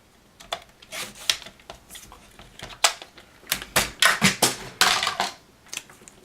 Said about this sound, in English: Let me use my trimmer to make it a little bit even there